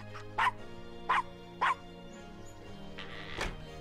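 A small dog yaps three times in quick, evenly spaced bursts in the adventure game Gabriel Knight, followed by a softer whimpering sound and a low thump over a quiet musical hum.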